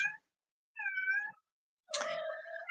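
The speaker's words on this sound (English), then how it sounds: "I have a poor cat that's in heat that just is just wandering, screaming for everybody" A cat in heat yowls in three drawn-out, wavering cries separated by short silences, the last one louder and harsher, close by with no talking.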